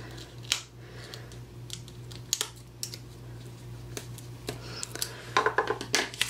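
Scissors snipping through a strip of backed material roughly two inches long for a homemade sour cream holder: a few quiet, close clicks and cuts that gather into a short cluster near the end, with no talk over a faint steady hum.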